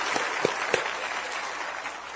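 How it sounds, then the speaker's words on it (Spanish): Audience applause at a convention, a short, moderately faint patter of clapping that rises briefly with a few sharper claps near the start, then settles into a steady, diffuse wash. "Un aplauso para ustedes, para los nuevos que vienen por primera vez a una convención."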